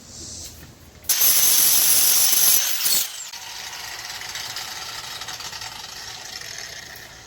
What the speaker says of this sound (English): I'm going to use a angle grinder with a flat disc sanding wheel on it to remove all the bark